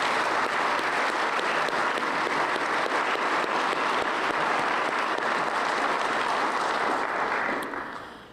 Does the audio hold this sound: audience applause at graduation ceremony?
yes